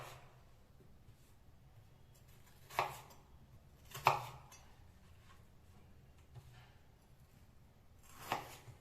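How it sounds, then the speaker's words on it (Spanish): A knife chopping a potato into sticks about one centimetre thick on a cutting board, three distinct sharp chops spaced a second or more apart against quiet background hum. "vamos a cortar bastoncitos que midan aproximadamente 1 centímetro"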